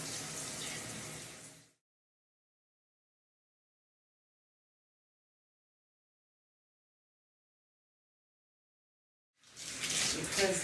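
Running water pours steadily for under two seconds, cuts to silence, then returns loud and hissing near the end.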